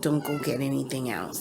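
A house cat meows insistently for attention in a home kitchen, a few drawn-out close meows overlapping a woman's speech.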